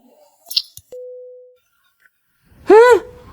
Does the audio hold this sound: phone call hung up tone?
yes